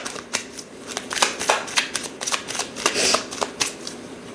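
Oracle cards being shuffled by hand for a card reading, a close run of quick, crisp riffling flicks repeating irregularly throughout.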